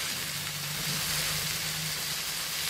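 Ponnaganti greens hiss and sizzle steadily in a hot Indian tempering of oil and spices, a close, continuous frying crackle with no voices.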